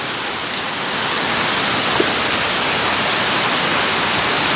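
Heavy rain pours without a break in Samar, a dense, steady roar of water hitting surfaces at close range, loud and even throughout with no voices.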